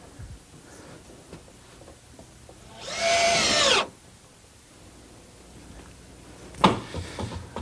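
A power drill drives a single screw into wood on a large birdhouse, a short buzzing burst of under a second that stops abruptly, followed later by a sharp knock, in an otherwise quiet workshop.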